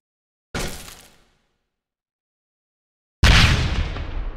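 Door breach explosions in the Recurrence mobile game: a sharp loud blast that quickly decays, followed by silence, then a second, louder and fuller boom that rumbles on to the end.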